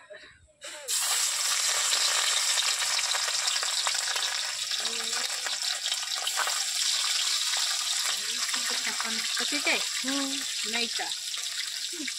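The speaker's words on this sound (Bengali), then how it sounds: "এবার মাছ ভাজা হবে।" Fish frying in hot oil in a kadai, a loud steady sizzle that starts abruptly after a second and runs throughout, with a few brief clatters of utensils near the end.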